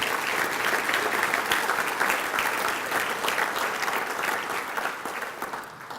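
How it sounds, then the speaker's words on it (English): A banquet audience at a chamber of commerce annual dinner gives sustained applause for sponsors, a thick, even wash of many hands clapping that fades slightly at the end. "give me a round of applause for our spirit sponsors too"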